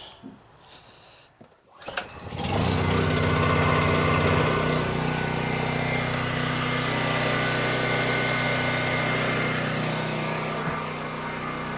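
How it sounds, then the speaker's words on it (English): A portable generator starts after a few clunks and settles into a loud, steady running drone with a constant mechanical hum and rattle, close by and continuous for about ten seconds, with no talk. "get the generator fired up so we get some air in the house"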